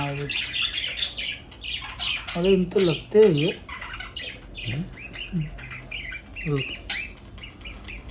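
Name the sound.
parrot squawking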